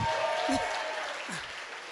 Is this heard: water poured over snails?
no